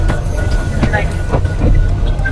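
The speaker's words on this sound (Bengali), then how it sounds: "ট্রেন চলতেছে, ট্রেনের মতো খুব একটা শব্দ নাই" A passenger train pulling away, heard from inside an air-conditioned coach: a muffled low rumble with faint rhythmic clicks and soft thumps, fairly subdued.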